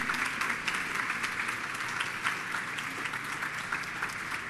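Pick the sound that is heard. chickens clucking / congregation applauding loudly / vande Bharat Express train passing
congregation applauding loudly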